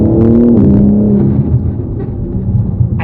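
A BMW M4 Competition G82 with an aftermarket exhaust gives a loud, throaty engine rev that holds and then settles into a raspy idle, close by and with no voices.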